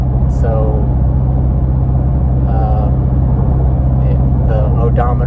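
A Chevrolet Camaro Z/28 driving along, its low steady engine drone and road rumble constant underneath, while a person talks intermittently over the top.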